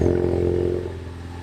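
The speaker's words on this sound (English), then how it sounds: "let's turn the car on and let it idle for a few minutes to make sure the install went okay" A Ford EcoBoost Mustang engine idling just after a spark plug install, a steady low rumble with an even, smooth tone, close and alone.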